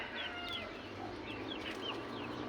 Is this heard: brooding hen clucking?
yes